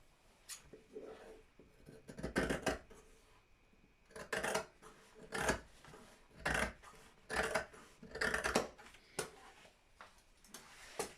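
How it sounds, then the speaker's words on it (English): Scissors snip through fabric along a straight cutting line for a girl's elastic skirt piece, in quiet, irregular bursts of short crisp cuts separated by brief pauses. "So I'm going to cut on this line straight on."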